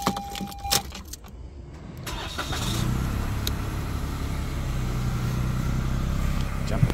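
A 2021 Toyota Yaris Ascent Sport being started: keys jangle near the ignition, then the engine catches after a brief crank and settles into a steady, smooth idle that continues to the end.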